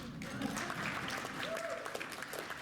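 Applause at an annual meeting of a heritage organization, a soft, distant and continuous patter of clapping from the audience, with faint voices mixed in.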